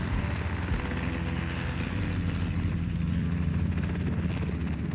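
A helicopter herding cattle on a large ranch drones steadily overhead, its rotor thumping in a continuous low pulse with engine whine, no voices.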